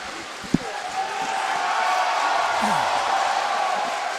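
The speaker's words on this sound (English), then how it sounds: "And now we're getting some excitement from the crowd" A crowd at a kickboxing event at the PanAm Centre in Canada swells into a sustained roar of cheering and shouting, building from a low murmur after a brief thump.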